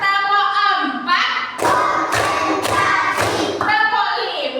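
Children's counting clap game used as a classroom icebreaker: four sharp, evenly spaced hand claps ring out loud and close between a teacher's chanted lines.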